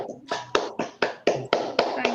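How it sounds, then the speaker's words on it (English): Participants in an online meeting give brief, thin applause, roughly eight close, sharp claps in an even rhythm over about two seconds, heard through a call. "Let's give a huge round of applause for Naman."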